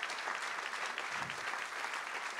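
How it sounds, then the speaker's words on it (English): A town hall audience at Stonebridge gives a round of applause for the people who helped design a program, steady crowd clapping heard alone at a fairly low level throughout. "let's have a round of applause for all these people who have helped us design this program"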